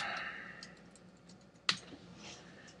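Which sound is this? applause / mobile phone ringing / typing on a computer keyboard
typing on a computer keyboard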